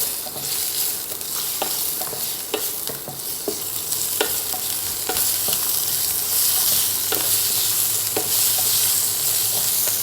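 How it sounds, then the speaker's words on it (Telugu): Onions with ginger garlic paste fry in a pan for a Maharashtrian methi zunka, a steady close sizzle broken by regular scraping knocks of a spoon stirring. "కొంచెం onion translucent light brown colour వచ్చేంత వరకు ఫ్రై చేయాలి."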